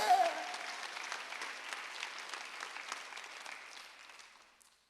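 A church congregation at a Sunday worship service breaks into clapping, a broad wash of applause that starts strong and gradually thins and fades away, with a brief voice at the very start.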